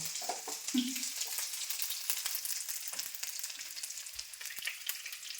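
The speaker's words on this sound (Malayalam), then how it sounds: "ഇത് മീഡിയം മീഡിയം ഫ്ലെയിമിലിട്ട് വറുത്തെടുക്കുക" Steady crackling sizzle of chicken frying in hot oil over a medium flame, continuous and close, with a couple of soft clinks and stirring sounds.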